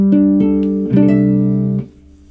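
Violin plays through a red pedal board into a bass amp, heard in the room. A few sustained bowed notes ring out close and clear, then fade, with no talking.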